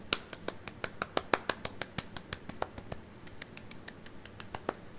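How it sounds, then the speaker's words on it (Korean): A small church youth group gives a round of applause during an online worship service, a sparse set of distinct hand claps in a loose, uneven rhythm, close and clear, thinning out toward the end. "우리 함께 박수 쳐볼까요?"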